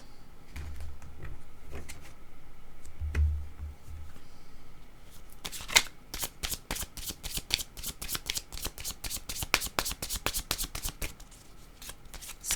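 A deck of tarot cards being shuffled before a card is drawn, starting with soft handling and building into a run of rapid, crisp riffling flutters, close and fairly loud, with no talking.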